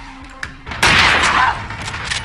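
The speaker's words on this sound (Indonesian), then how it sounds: "melemparkan granat dan meledak" A grenade goes off in a film action scene: after a brief lull with a faint thump, a sudden loud blast erupts and its rough, roaring tail rolls on to the end.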